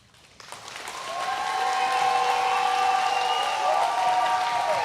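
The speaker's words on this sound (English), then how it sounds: "round of applause" Graduation crowd applause for the class of 2021 that starts with a sharp onset and quickly swells into a broad, sustained roar of clapping with some cheering, steady and loud throughout.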